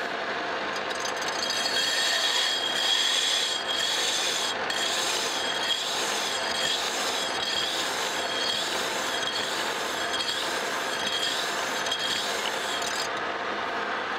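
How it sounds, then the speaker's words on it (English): Steady rasping, rubbing grind of a steam locomotive throttle valve being lapped against its seat with compound, a continuous close scraping texture with slight cyclic swells, alone without talk. "There's no way to get in a hurry about this lap, and it just takes time. It cuts a little bit at a time until you get a nice valve seat."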